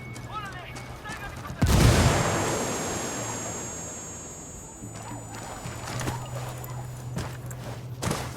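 Gunfire in the video game Ghost Recon Wildlands bursts in suddenly with a loud crack and a sustained rumbling roar that slowly fades, followed by scattered later shots over a steady background hum.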